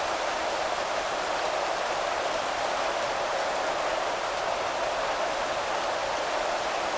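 Windy rainfall in a football video game, a constant, even hiss of rain that never lets up, with no voices.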